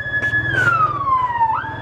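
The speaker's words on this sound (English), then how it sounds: "They have like a huge siren on." A loud emergency vehicle siren wails on the road, one long falling tone sweeping down over about a second and a half and then rising again, with steady engine and traffic rumble underneath.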